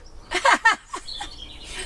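A few nearby birds give short, bright chirps in a quick cluster, followed by fainter scattered calls against a quiet outdoor background.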